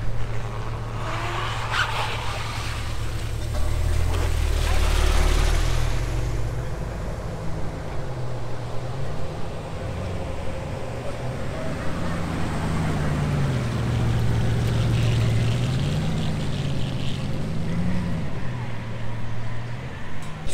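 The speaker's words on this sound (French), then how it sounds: "Bugatti Veyron qui arrive, regarde ça." A Bugatti Veyron supercar approaches and passes in a Monaco street, its loud engine drone rising and falling in pitch as it nears and moves by, with someone talking excitedly over it throughout.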